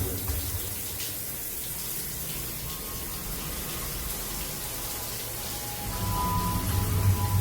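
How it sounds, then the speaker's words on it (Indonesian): A shower runs steadily while hair is rinsed, a continuous close hiss of spraying water that grows slightly heavier near the end. "saat aku sedang membilas rambutku dengan air dari shower"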